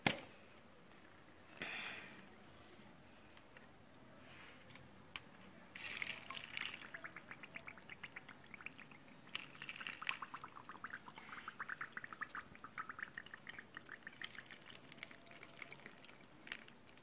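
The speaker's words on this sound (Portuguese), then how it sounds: "a gente vai colocar água até essa listrinha aqui" Hot water pours into a Nissin Cup Noodles cup, a thin trickling stream that starts faintly and grows into a steady bubbling fill over several seconds, with no voices.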